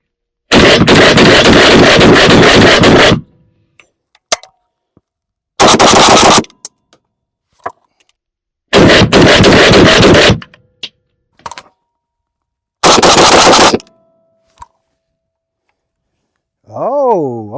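A PSA AK-101 rifle in 5.56x45mm fires four loud bursts of rapid shots, each lasting one to three seconds and separated by pauses filled with faint clicks and handling noise. A brief voice is heard at the end.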